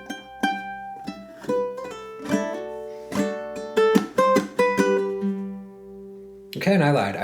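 A ukulele strums a bar of a song: a run of bright plucked chords, some struck hard with accents, ringing out clearly up close before a brief voice begins at the very end.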